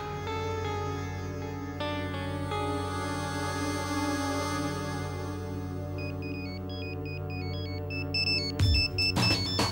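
A phone ringtone sounds while a call is placed, a sustained electronic melody with layered tones, then a higher beeping pattern and an abrupt burst near the end, moderately loud and without speech.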